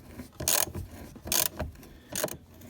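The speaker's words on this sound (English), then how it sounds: "you might just need to switch the ratchet, back it up a little bit, and then keep going" A ratchet wrench drives a Tapcon screw into masonry concrete, giving three separate bursts of dry clicking at a steady pace, each followed by a short pause.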